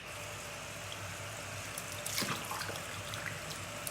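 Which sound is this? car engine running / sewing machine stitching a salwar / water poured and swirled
water poured and swirled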